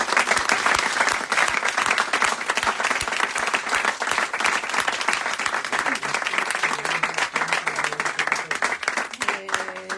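Sustained audience applause after a literary talk with authors Manuel Vicent and Juan Cruz, dense steady clapping for about ten seconds, with a voice and some tonal sounds emerging near the end.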